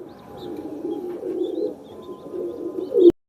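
Pigeons coo softly and steadily nearby in a low, rolling murmur, ending with a sharp click.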